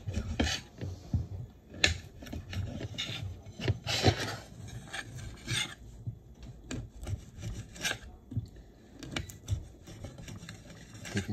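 A knife slices through Chinese sausage for a stir-fry with vegetables, giving repeated rasping, rubbing cuts at a slow, uneven rhythm, close and moderately loud with no talking.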